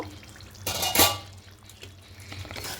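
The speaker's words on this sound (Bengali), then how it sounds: "এবার ঢাকাটা খুলে নেব" A lid comes off a pot of simmering yogurt chicken, giving a quick metallic clink and scrape followed by faint bubbling and liquid drips close by, with no talking.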